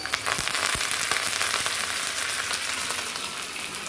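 Onions and curry leaves frying in hot oil after mustard seeds, with a close, loud sizzle and scattered pops, easing slightly toward the end.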